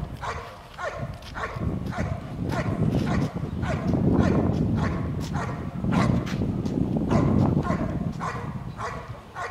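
A search dog barks steadily and repeatedly to signal its handler that it has located the hidden person, each sharp bark following closely on the last in an even rhythm that carries loudly outdoors.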